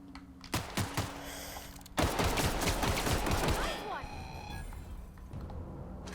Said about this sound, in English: Why are they still shooting you?